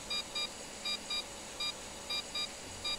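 Electronic warning beeps sound inside an F/A-18 Hornet flight game cockpit: short high-pitched tones repeating in quick pairs at a steady rhythm over a constant low hum, fairly faint.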